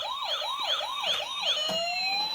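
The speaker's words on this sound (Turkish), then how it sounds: "Işıklı ambulans açıyor musun" A toy ambulance siren with flashing lights wails in a fast, repeating up-and-down cycle four times, then settles into a single steady rising tone; it sounds loud and close, with no talking.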